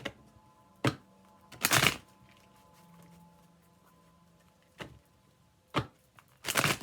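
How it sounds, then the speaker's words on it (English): Several short bursts of Rider-Waite tarot cards being shuffled and riffled, separated by quiet pauses, close up, with a faint low hum underneath. "Shuffling the deck for Leo."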